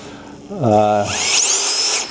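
A Fein ASCM 18 QSW brushless cordless drill spins up close by. Its motor whine climbs sharply in pitch, then settles into a steady, loud high whine that holds for more than a second.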